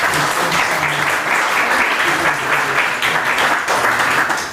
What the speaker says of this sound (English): I want a round of applause for the 3 panelists.